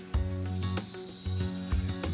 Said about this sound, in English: these cicadas start their chorus